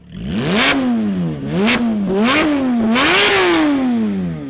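Porsche 991 GT3 RS with a 520-horsepower flat-six and stock exhaust revving hard toward 8,000 rpm, four or five sharp rising blips with quick drops between them, loud and close throughout.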